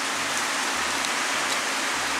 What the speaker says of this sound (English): rainy, rainy, rainy. Mostly straight down, so we're not seeing too much